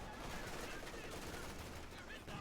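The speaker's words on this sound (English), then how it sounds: "Troops repulsed here by the machine gun firing the incendiary armor piston rounds." Machine gun fire from the Company of Heroes 2 strategy game, shooting incendiary armor-piercing rounds, sounds as a dense, continuous burst of rapid gunfire that is loud and close and runs through the whole moment.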